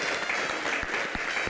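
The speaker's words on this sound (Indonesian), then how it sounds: "Kita berikan tepuk tangan yang paling meriah." An audience applauds steadily and fairly loudly throughout a short burst, a dense even clatter of many hands with no break.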